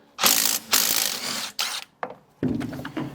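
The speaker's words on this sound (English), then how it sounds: "next, remove the 13mm nut on the lower shock axle" A hand ratchet loosening a 13mm nut on the lower shock axle of a rear suspension, several loud bursts of rapid clicking pawl sounds separated by brief pauses, close up, with no talk.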